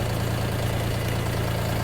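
Cold YTO SK 244 SX tractor diesel idles at roughly 1000–1100 rpm, a constant close-up throbbing hum with a slight knocking texture and no other sounds.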